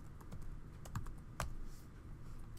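Quick bursts of keystrokes on a computer keyboard while entering a name in Photoshop, a few soft clicks spaced irregularly, close and quiet with no talking.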